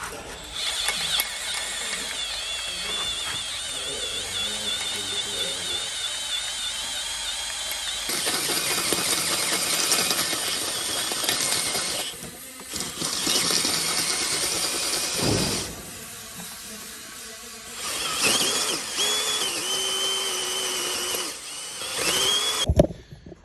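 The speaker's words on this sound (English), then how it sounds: "Harder than expected to drill through that much steel" A power drill with a large bit grinds through thick steel, a long, loud, harsh whine that surges and drops with brief pauses as the bit bites, with metallic scraping and no voices over it.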